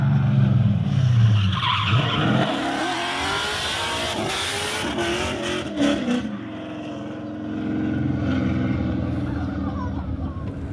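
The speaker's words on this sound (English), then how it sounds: "he gave a really good drift through here" A Nissan 240 drifting on a track, tires squealing and engine roaring loudly and close for several seconds, with a steady mix of skid noise and revving throughout.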